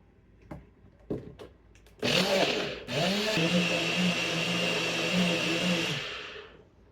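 A few light taps and clicks come first, then a NutriBullet blender kicks on loudly, whirring steadily for about four seconds as it mixes Hershey's syrup with peanut butter before cutting off.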